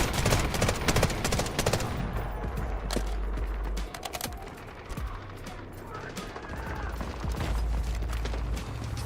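Rapid AR-57 rifle fire in the Delta Force shooter game, dense bursts of automatic shots with heavy low thumps and clicking mechanisms, fading into quieter scattered fire before resuming.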